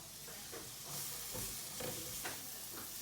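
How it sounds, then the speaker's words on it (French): A spoon stirs a creamy sauce mixture for a sautéed vegetable and ground meat gratin in a hot pan, a continuous sizzling hiss with soft repeated scraping strokes. "je vais continuer à bien mélanger"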